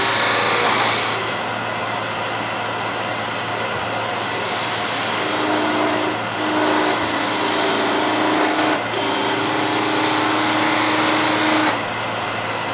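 A wood lathe spins a thin spindle while a gouge rolls a bead. The steady motor whine and cutting hiss run nearly unbroken, with slight shifts in tone as the tool moves along the work.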